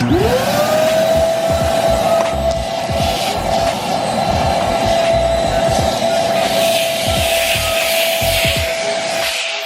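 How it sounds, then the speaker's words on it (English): A loud vacuum cleaner motor whines up to a steady high pitch and runs continuously, with rough sucking and rubbing noises as it's moved around a car interior. "So now it's time to vacuum all this out"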